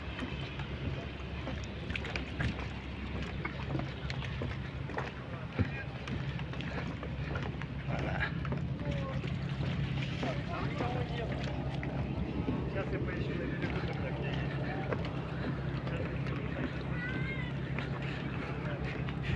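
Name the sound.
motor boat ride on the sea at Vladivostok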